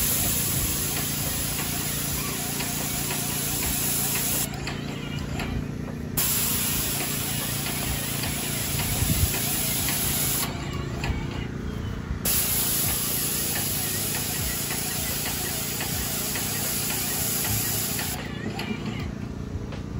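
A Graco Mark V airless texture sprayer blasts drywall mud onto a wall in a loud, continuous hiss, cutting off in three brief gaps between long bursts.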